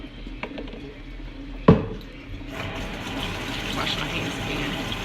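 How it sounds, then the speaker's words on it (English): Tap water runs steadily as hands are quickly rinsed in a kitchen while seasoning chicken, a sharp clatter early on, then continuous splashing flow at moderate distance. "Wash my hands again. Just rinse them right quick."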